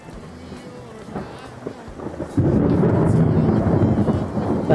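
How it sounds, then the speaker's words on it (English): Thunderstorm sound effect played during a live stream: a sudden loud broadband roar of thunder and rumbling storm noise swells in after a quieter stretch with faint voices, then holds heavy and close to the end. "That thunderstorm was the first sound effect I added on this stream."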